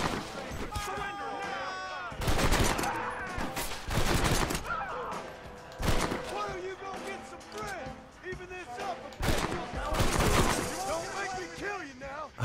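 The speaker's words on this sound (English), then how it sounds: "Gun is pretty satisfying." Gunfire in the video game Red Dead Redemption: several loud bursts of shots in quick clusters, with voices talking in between and over them.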